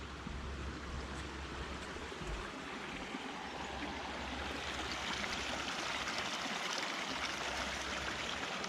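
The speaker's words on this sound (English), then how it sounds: "It's pretty to hear the water out here." A small stream flows at a trail crossing near the Middle Fork Snoqualmie River, a steady close rushing and trickling wash with no voices.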